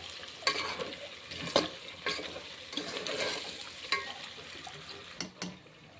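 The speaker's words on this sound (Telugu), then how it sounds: "ఇలా అడుగు పట్టకుండా కలిపేసుకోవాలి" Rice for a vegetable dum biryani is stirred in a pot, with a faint sizzle underneath and a string of sharp scraping strokes spaced a second or so apart.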